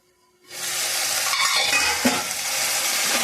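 Chicken curry with gongura leaves cooking in a covered pan, a sudden loud sizzle that starts after a brief silence and then holds as a steady close frying hiss with faint stirring clinks.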